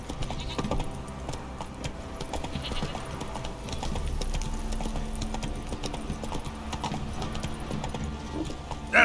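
Roach the horse in The Witcher 3, hooves clip-clopping steadily and continuously in a dense, busy game soundscape, with no voices.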